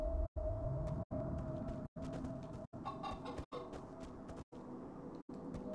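Chickens in the video game Minecraft: Story Mode cluck softly in repeated short bursts, separated by brief silent gaps, with a low steady hum beneath, faint and no talk.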